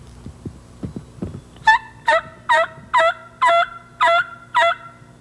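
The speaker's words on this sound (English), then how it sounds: "The idea is to get the tom to gobble back and find out exactly where he" A wild turkey tom gobbles in a string of about seven loud, evenly spaced rattling calls, preceded by a few softer clucking hen-like calls in an otherwise quiet outdoor setting.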